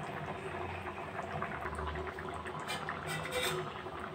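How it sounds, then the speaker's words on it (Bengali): Rice and potatoes boil together in a pot on a gas flame, a steady close bubbling wash with soft gurgles and faint clinks running continuously throughout. "এই যে চাল আলু দুটোই সিদ্ধ হচ্ছে।"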